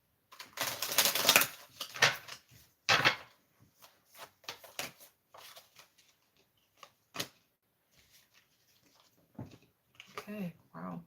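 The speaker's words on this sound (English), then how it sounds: "Final shuffle on this." Tarot cards are shuffled by hand in a series of quick riffling and slapping bursts, loudest at the start and then thinning to scattered soft flicks, with pauses between.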